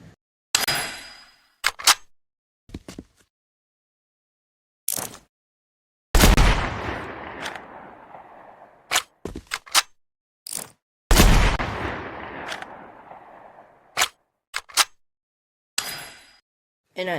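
Bolt-action sniper rifle shots from the Fortnite video game ring out as sharp, isolated cracks separated by silence, two of them followed by long booming tails that fade over a few seconds.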